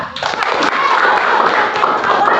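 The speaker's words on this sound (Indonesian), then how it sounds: "Oke, tepuk tangan dulu buat Nuha" Classroom students clapping for a classmate after an answer, a short burst of scattered claps that quickly blends into a busy wash of noise and chatter from the room.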